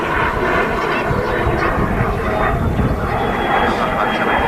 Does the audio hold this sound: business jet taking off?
yes